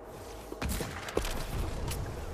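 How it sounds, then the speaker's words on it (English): Gunfire from an enemy player behind in Fortnite Reload, a run of sharp shots spread over a couple of seconds beneath dense game noise. "The guy behind us shooting."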